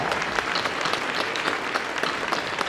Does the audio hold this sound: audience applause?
yes